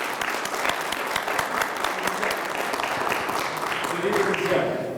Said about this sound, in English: Dr. Akbar, can we give her a special applaud?